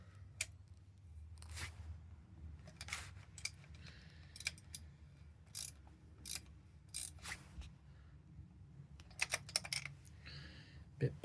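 Ratchet clicking in short bursts as new turbo studs are tightened on a 1.6 TDCi Ford Fiesta Mk6, close and fairly quiet, with scattered clatter and low background rumble between the runs of clicks.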